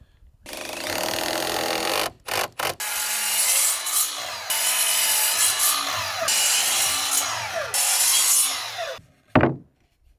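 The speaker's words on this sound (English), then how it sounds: "we can quickly knock out all of the cutting that we have to do for all of our A's" Power saw cutting wood pieces for an off-grid A-frame cabin, loud and close, with long continuous whining cuts separated by short pauses and a few quick bursts before the blade winds down at the end.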